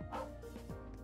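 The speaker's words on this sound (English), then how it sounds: "Ooh, a dog." A dog in the Trails of Cold Steel video game gives a couple of quick, yappy barks over a faint background, close and brief.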